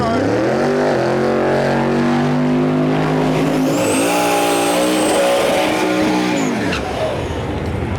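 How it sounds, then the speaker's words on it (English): An LS turbocharged old Datsun drag truck launches hard down the dragstrip, engine roaring loud and close with rising harmonic pitch through gear changes before cutting off near the end. "This truck makes some serious power."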